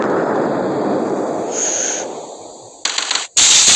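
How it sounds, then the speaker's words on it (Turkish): Rockets launched and blowing up in the planet-destruction game Solar Smash: a sustained rumbling roar of fire and blasts, then a hissing whoosh and two sharp, loud bursts of explosive noise near the end, with no talking. "Şunu roketler atayım."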